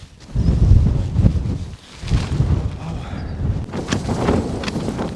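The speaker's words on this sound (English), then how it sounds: "It's been kind of hard to stand around in the wind." Cold wind gusts buffet a snowy mountainside at around -10 wind chill, roaring loud and low in uneven surges with a brief lull near the two-second mark before rising again.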